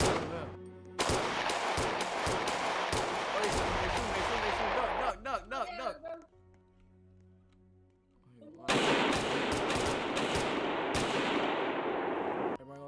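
Gunfire in a Roblox hood-style video game: long runs of rapid, loud shots, then a short lull, then another sustained burst of automatic fire.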